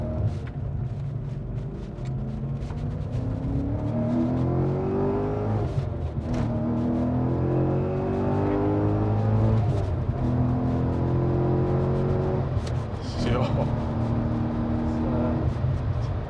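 A supercharged Audi RS4 B7 V8 engine revs up and down repeatedly with a high supercharger whine rising and falling alongside the exhaust drone, heard from inside the car.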